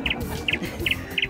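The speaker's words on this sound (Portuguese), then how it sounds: "Passarinhos!" Short, high bird chirps repeat four times at an even pace, fairly faint, over a noisy indoor background of children's toy play.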